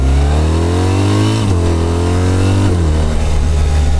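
A 2026 BMW R1300RT sport-touring motorcycle accelerates hard and close, its engine note climbing steadily with two quick dips as it shifts up, loud and continuous without talk.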